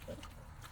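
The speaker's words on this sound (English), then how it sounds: "You need a pig? I have some." Pig on a family farm giving a short, low grunting oink, close but quiet, amid faint barnyard background noise.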